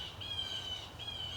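Garden birds outdoors in fall give two thin, high squawking calls over steady background hiss. The calls are fairly faint and distant, and no one talks.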